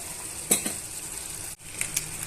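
Tomato egg curry with garam masala is mixed in a pan, a steady low sizzle under a few spoon clinks and scrapes, with a brief dip in the middle.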